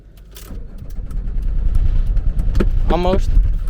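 An old diesel car engine cranks and rumbles, a low steady throb growing louder as it catches, with voices talking over it.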